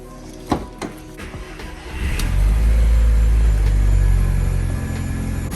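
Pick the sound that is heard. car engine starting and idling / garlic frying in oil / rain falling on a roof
car engine starting and idling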